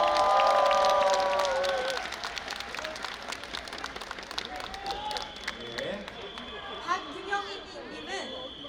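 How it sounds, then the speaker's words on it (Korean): A crowd applauds and cheers at an outdoor political campaign rally in Gwanghwamun square, loud at first and then thinning into scattered clapping, chatter and crowd noise. "모두의 뜨거운 박수로 네 분을 맞이해 주시기 바랍니다."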